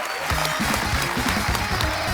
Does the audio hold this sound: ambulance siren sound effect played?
no